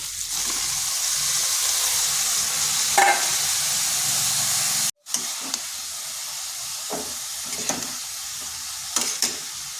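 Cabbage frying in a pan for a vegetarian Bengali dish, a steady sizzling hiss throughout with a brief cut midway and occasional stirring clatters.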